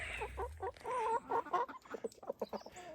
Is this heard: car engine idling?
no